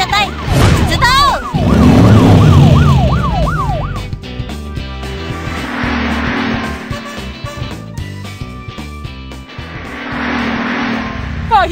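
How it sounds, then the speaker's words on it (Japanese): Cartoon rescue vehicles, an ambulance, fire engine and police car, sound their sirens, with a rising and falling wail up front followed by engine rumbles and repeating siren sweeps under music. "救急車のトリ、準備完了。 消防車のレイ、準備完了。 パトカーのポール、準備完了。 自動車救助隊、出動。"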